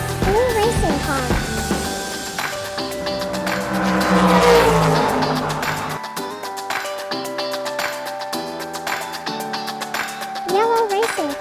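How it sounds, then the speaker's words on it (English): A blue toy racing car revs up, its engine sound climbing to a loud peak partway through and then dropping back beneath a layered tonal background, with a brief rise again near the end. "Blue racing car."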